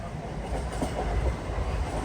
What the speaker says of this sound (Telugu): మన ట్రైన్ క్రూజింగ్ స్పీడ్ చూడండి బాబోయ్